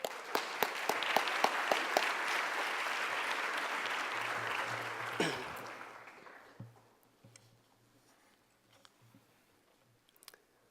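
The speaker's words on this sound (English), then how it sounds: "So if we can, give him a round of applause." An audience claps for a DEA regional director at an opioid epidemic symposium, a dense round of applause that holds steady for about five seconds, then thins to a few scattered claps and fades into near silence.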